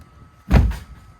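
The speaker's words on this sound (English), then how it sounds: "we shut the door and we lock it" A door at a generator building shuts with a single short thud, followed by a faint click as it is locked, close and alone in a quiet room.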